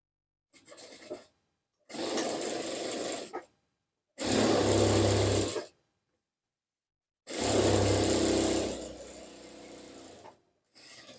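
Sewing machine stitching fabric pieces of a churidar pajama together, running in four loud, steady whirring bursts separated by silent pauses, plus a brief final start, close by with no talking.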